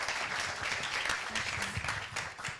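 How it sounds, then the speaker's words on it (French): Audience applause for a founder about to pitch her project to investors, a soft, distant, steady patter of clapping from a crowd throughout. "Vous pouvez l'applaudir d'ores et déjà."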